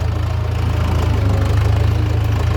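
A tractor engine runs close by with a loud, steady low throb and a regular knocking pulse, idling evenly throughout with no talk.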